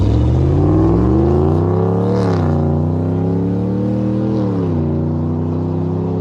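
A Ram 1500 pickup engine revs through an aftermarket black exhaust tip stepped up from 3 to 5 inches, a loud close drone that rises and falls twice in smooth swells before settling into a steady hum.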